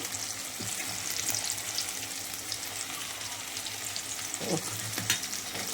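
Ginger garlic paste fries in a pan for a wedding-style mutton curry. It makes a steady, fairly soft sizzle throughout, with a couple of faint spoon taps.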